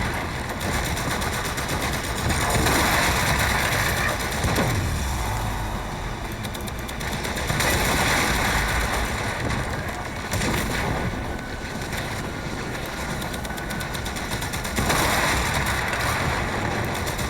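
Arch-gun fire in the Warframe video game during a solo Profit Taker fight, a sustained, dense, loud barrage of rapid shots blending with roaring wind-like noise, continuous without pauses and with no talking.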